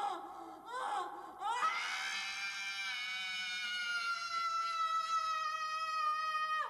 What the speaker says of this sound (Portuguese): Então, como reação a essa dor, essa personagem solta esse grito aqui.